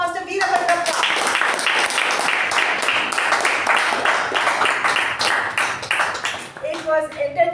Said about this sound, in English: let us give a big resounding sound of applause for Toastmaster Veerabhadrappa